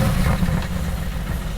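The 4-liter twin-turbo V8 of a 2016 Mercedes-AMG GT S idles with a loud, deep, steady rumble close by, heard alone.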